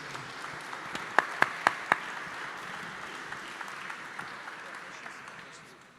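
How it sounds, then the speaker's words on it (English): Applause from a summit audience after a panel discussion ends, a soft continuous wash of clapping with a few sharp, close claps standing out early, then slowly tapering off. "please give a big round of applause for everyone"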